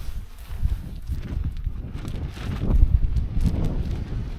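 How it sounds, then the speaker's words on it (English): Wind gusting against a camping tarp at an outdoor campsite, giving uneven flapping and buffeting bursts of moderate loudness that come and go over a breezy background. "Looks like the tarp's taking a beating."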